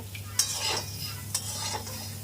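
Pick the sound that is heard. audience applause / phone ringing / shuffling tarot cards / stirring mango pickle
stirring mango pickle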